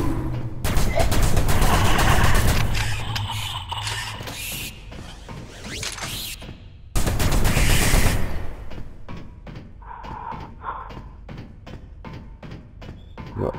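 Gunfire at a firing range in the video game CDF Ghostship: dense bursts of rapid shots and mechanical clatter, then a run of distinct evenly spaced single shots, loud and close, with no speech.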